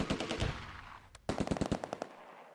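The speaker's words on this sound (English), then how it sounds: "Bren opens up on the troops in the open." A Bren light machine gun fires in a World War II battle in the Close Combat strategy game, rapid bursts of sharp shots at modest volume, split by a brief pause.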